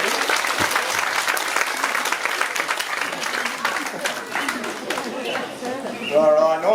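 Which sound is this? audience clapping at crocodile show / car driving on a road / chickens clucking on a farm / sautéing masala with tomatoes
audience clapping at crocodile show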